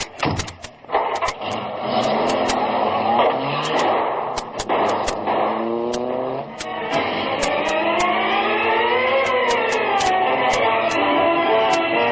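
Getaway car pulling away in an old-time radio drama, a door clunk, then a steady engine drone rising and shifting in pitch as it accelerates, loud and continuous with crackly recording clicks.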